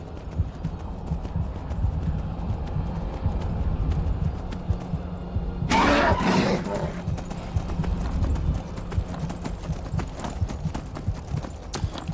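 Horse hooves clip-clop in Skyrim on a snowy mountain during a blizzard, a steady close trotting rhythm over low wind and music, broken by a brief loud whoosh midway.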